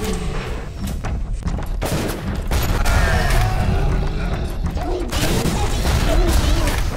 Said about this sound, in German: Habe ich gerade gegen die Wand geschossen?